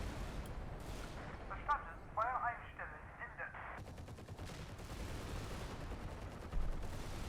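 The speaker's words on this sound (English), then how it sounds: "Jen's definitely still dropping mortars around here" Mortar barrage fire in the Normandy wargame Combat Mission Battle for Normandy, with repeated distant thuds and crackling bursts of gunfire spread across the clip, fairly quiet, with a rattling stretch in the second half.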